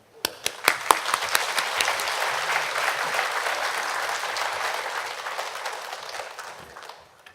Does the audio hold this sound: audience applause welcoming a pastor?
yes